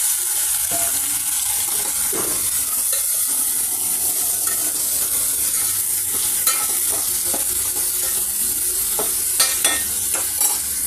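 Tomato pieces sizzle and fry in a pan with ginger-garlic paste while a utensil stirs and scrapes repeatedly, a loud continuous hiss broken by sharp clinks toward the end, no voices.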